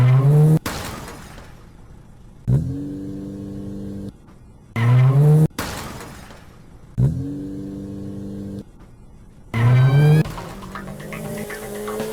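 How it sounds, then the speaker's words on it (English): A car in the Granny video game reverses back and forth against a wall in extreme mode, the engine revving and tires squealing in repeated surges, with sharp impact crashes between them, loud and close. "you can turn the car on and you need to reverse back and forth until the wall breaks and you escape"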